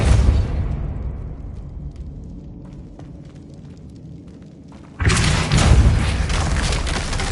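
A Depulso spell goes off in Hogwarts Legacy with a loud, booming blast, and its rumble fades over several seconds. A second heavy burst then cuts in and holds strong to the end.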